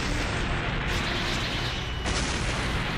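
A massive explosion engulfs a metropolis in a Dragon Ball fighting game, a sustained wide roaring blast of dense rumbling noise that holds loud and steady for the whole stretch, with a brief surge near the end.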